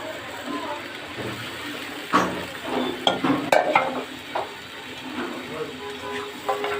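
Taro stolons stirred into a frying curry of dried bamboo-leaf fish, a low sizzle broken by clattering spoon scrapes and knocks against the pot, with a voice talking faintly at times.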